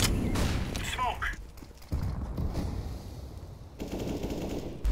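Counter-Strike gunfire rattles in quick automatic bursts early on, followed by quieter shots and thuds, loud and close, with a brief in-game voice callout in between.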